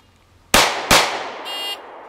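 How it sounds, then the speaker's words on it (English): Two sharp, loud gunshots crack in quick succession at shooting practice, each with a brief decaying echo, followed by a short electronic beep from a shot timer. "3 shots in 2 seconds"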